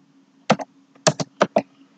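Typing on a computer keyboard while entering an Excel formula, with a few quick clustered keystroke clicks in short bursts, close and distinct over a quiet background hum.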